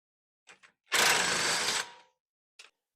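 A ratchet working a 22mm nut off a car's front lower control arm: a short close burst of rapid clicking, with a few faint clicks before and after.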